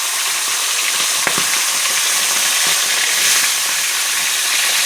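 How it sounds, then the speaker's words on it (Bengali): Tilapia fish frying in hot oil, a dense continuous sizzle with a few sharp pops and crackles, steady and close, with no voices. "তেলটা গরম হয়ে গেছে, তো এখন আমি মাছগুলো একে একে ভাজা করে নেব।"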